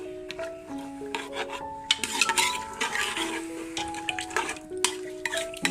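Potato and pea masala being stirred and roasted in a pan at home, with a steady scraping, rubbing rhythm of a spoon against the pan and a faint sizzle, close and moderately loud.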